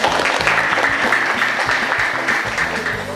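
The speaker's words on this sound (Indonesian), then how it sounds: "tepuk tangan dulu." Classroom applause during a school teaching session, students clapping together in a steady, moderately loud patter with a faint rhythmic background beneath.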